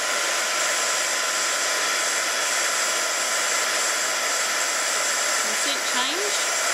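A heat embossing tool blows hot air in a steady, loud whooshing hiss that runs unbroken throughout, melting embossing powder on a stamped card; no talking over it.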